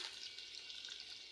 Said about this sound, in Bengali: আমি তেল দিয়ে দিলাম, দিয়ে দিলাম ঝাল পেঁয়াজ এবং কিছু চিংড়ি মাছ।